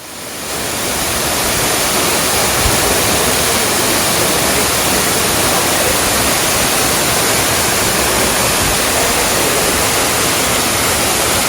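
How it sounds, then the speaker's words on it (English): A waterfall pours down a cliff face in Madeira, splitting into many streams that fall into a natural pool, heard as a loud, steady, broadband roar of rushing water with no voices. "The waterfall cascades down a cliff face, dividing into 25 streams that flow into a natural pool at the base."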